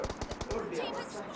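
Rapid automatic gunfire in a video game, a quick burst of about six sharp shots followed by quieter mechanical clatter, faint and close.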